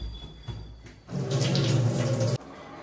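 Water pours from a tap into a cooking pot for sprouted mung beans, a short full splashing rush of about a second and a half between quieter kitchen handling sounds.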